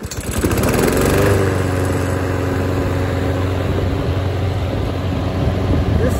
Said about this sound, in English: Now I started this lawnmower up after winter, and it started up on the first pull.